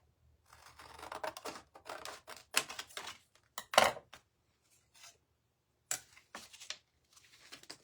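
Scissors snip in quick, close bursts through material to trim a piece for a picture frame, with pauses and a few louder cuts between quiet stretches.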